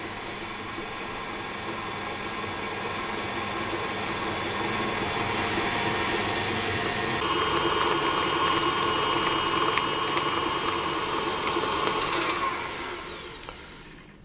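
An electric mixer beats chocolate mint brownie batter with a steady, loud whirring drone that holds for several seconds, shifts pitch midway, then winds down at the end, with no talking.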